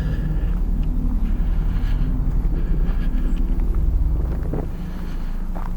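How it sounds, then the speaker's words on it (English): Strong gusts buffet the microphone outdoors at an old bridge, a loud continuous low rumble that barely lets up and eases slightly near the end. "I do not know how the wind is going to do with my EVPs because it's just blowing like crazy"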